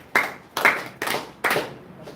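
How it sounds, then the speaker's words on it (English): A group in an indoor teaching session applauds a student with four sharp claps in unison, evenly spaced about half a second apart. "Give Rahash a round of applause."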